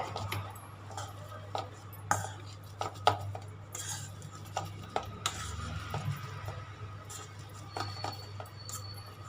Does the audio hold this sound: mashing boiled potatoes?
yes